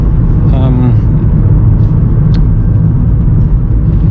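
A Hyundai IONIQ Electric, a front-wheel-drive car, accelerates in sport mode with a steady road and tyre rumble and a faint rising whine, heard from inside the cabin, while a voice speaks briefly early on.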